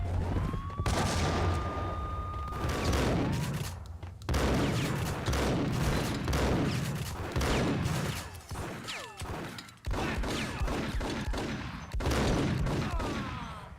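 Gunfire from the video game Max Payne, loud and nearly continuous for the whole stretch, with dense volleys of shots interrupted only by brief gaps and accompanied by faint tonal game sounds.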